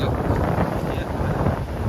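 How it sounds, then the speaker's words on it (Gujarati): Strong wind blows over the sea during crab fishing, making a loud, continuous roar that buffets the microphone from start to finish. "પવન બહુ કાંદે છે ને મોજા વધી જાય છે"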